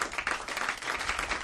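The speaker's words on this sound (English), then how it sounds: "I never heard applause like this." Enthusiastic audience applause at the end of a stand-up comedy show, a dense, sustained wash of clapping from a large crowd with no voices over it.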